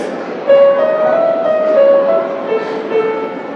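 A sustained, smooth piano melody from the opening of Puccini's "Quando me'n vo" from La Bohème moves step by step through a repeating pattern of notes, steady and fairly loud with no voices.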